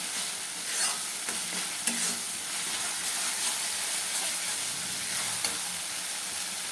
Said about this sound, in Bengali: এইভাবে কষতে কষতে দেখবে টমেটোগুলো নরম হয়ে যাবে আর মশলাটাও পুরো রেডি হয়ে যাবে